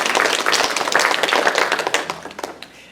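Applause from attendees at a December general membership meeting, with many hands clapping in a close, crisp, busy patter that holds strong and then thins out and tapers off near the end.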